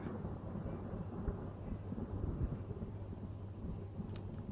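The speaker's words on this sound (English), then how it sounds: "Now let's count the thunderstorm, shall we?" A thunderstorm from a 2006 film scene rumbles continuously, a deep, rolling roar of thunder that stays fairly even and moderately loud for the whole stretch, with no speech.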